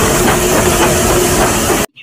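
A toy train gives a loud, continuous steam hiss with a low engine rumble for nearly two seconds, then cuts off abruptly.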